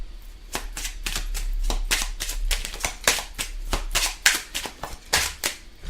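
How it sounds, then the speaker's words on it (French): Tarot cards shuffled by hand in a quick, steady run of crisp riffling slaps and snaps, close and fairly loud, with no talking. "On va tirer 3 petites cartes et une carte synthèse."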